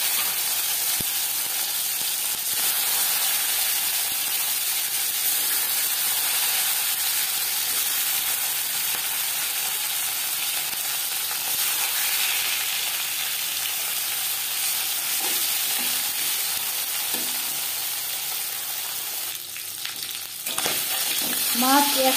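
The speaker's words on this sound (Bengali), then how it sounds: "3 চামচ রিফাইন্ড অয়েল গরম করে নিয়েছি। এবার দিয়ে দেব ম্যারিনেট করে রাখা মাছ।" Marinated shing fish fries in hot refined oil, a steady, close, even sizzle with crackling hiss throughout, briefly louder near the end with a clink.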